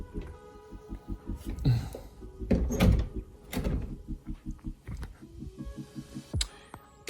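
Closet doors in an upstairs room slide and bump shut, with several thuds and rolling scrapes over a steady low hum, and someone talks over them.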